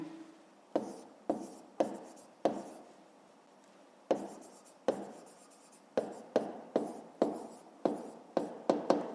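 Pen or pencil writing by hand on paper while solving a school maths exercise, heard as a run of short scratchy strokes in irregular bursts with brief pauses, close and fairly quiet, no talking.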